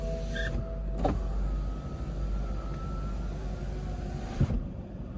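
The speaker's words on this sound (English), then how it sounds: "And then the windows go up as well." Power windows on a 2004 BMW 645ci convertible whir up with a steady electric motor hum, close by, ending in a soft thunk as they seat, with no talking over the mechanism.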